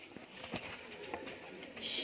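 Teddy pigeons at a bird sale in India give soft, repeated coos, faint and close, with light rustling in the background.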